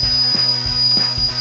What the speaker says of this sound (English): You can do a manual steam release like that